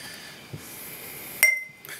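A Grand Cru stemmed glass gives one bright, sharp clink that rings briefly and then fades, standing alone against a quiet room with light handling sounds around it.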